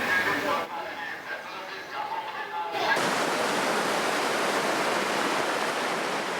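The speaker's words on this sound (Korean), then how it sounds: "시원하게 흐르는 계곡의 물소리를 들으며" A stream rushes through a valley in Borjomi National Park, Georgia, its water flowing as a steady broadband wash that swells to a loud, close roar and holds evenly, with muffled voices fading in the opening seconds.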